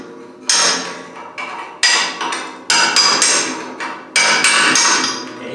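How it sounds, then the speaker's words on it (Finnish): A hammer strikes metal repeatedly, knocking burrs off a forest trailer's frame, about seven sharp ringing blows at an uneven pace, loud and close, with no talking. "pikkusen tauran ja vasaran, niin nää saa aina hakata noita jäysteitä"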